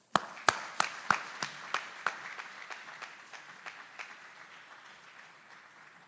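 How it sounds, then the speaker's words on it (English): Applause at a military advanced-training graduation ceremony: a handful of sharp, separate claps that start loud and quickly thin out into a fading patter over several seconds. "Please give him a well-earned round of applause."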